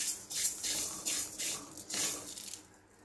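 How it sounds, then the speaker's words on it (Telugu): Sesame seeds dry-roasting in a pan for chutney give off repeated bursts of close, hissing, rustling noise, about four or five surges as they are moved around, with no talking. "నువ్వులు వేయించుకుంటున్నా"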